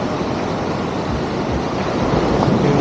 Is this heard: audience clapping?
no